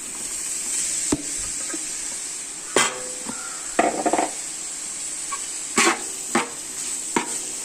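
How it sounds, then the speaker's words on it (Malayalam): Beans sizzling steadily in a hot pan, with several sharp clinks and scrapes of a spoon stirring against the metal at irregular intervals; close and fairly loud, no talk. "ഇനി ഇതിലേക്ക് നമുക്ക് ബീൻസ് ഇട്ട് കൊടുക്കാം"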